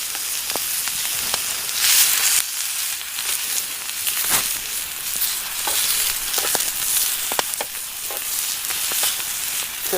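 Vegetables and tomatoes sizzling on a tray over a camp stove outdoors, a steady close crackle and hiss with occasional sharper pops and scraping, no voices.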